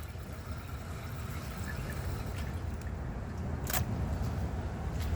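A Project Source Pro toilet flushes a washcloth, heard as a faint, steady rush of water with a soft gurgle near the end, fairly distant and low in level.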